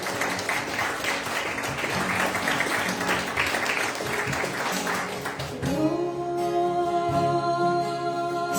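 A church congregation claps in praise during a worship service: steady, full-room applause for several seconds, then it gives way to sustained instrumental music.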